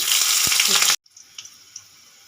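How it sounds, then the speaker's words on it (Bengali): White cumin seeds, a bay leaf and green chilies hit hot oil for a tempering, giving a loud, dense sizzle that cuts off abruptly, followed by faint scattered crackles and pops. "আমার তেলটা গরম হয়ে গেছে ফোড়নে দিয়ে দেব সাদা জিরে দেব তেজপাতা কাঁচা লঙ্কা"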